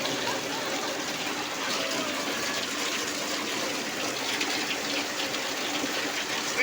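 Sudden rain pouring steadily and fairly close by, a dense continuous hiss of falling water with no break and no talk.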